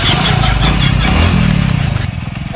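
A motorcycle engine runs close and loud in a steady, throbbing low rumble for a few seconds, its rhythmic pulses rising slightly before settling toward the end.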